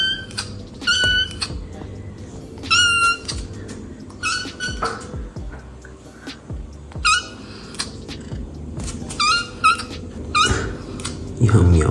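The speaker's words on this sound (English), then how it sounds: "Your meows in the morning are the cutest." A baby cat meows again and again nearby, hungry before breakfast, bright insistent cries in short bursts with pauses between, over faint low household noise.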